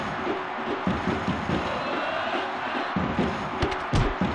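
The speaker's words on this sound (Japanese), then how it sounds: "ブーイングですね" Stadium crowd booing in the Winning Eleven 97 football video game during a Kashima Antlers vs Kashiwa Reysol J.League match: a steady, droning wall of crowd noise with small surges.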